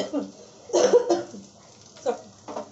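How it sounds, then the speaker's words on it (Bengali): A person with a severe cough coughs in several harsh, close bursts, a pair followed by two more spaced apart, in an otherwise quiet room. "প্রচণ্ড কাশি হয়েছে"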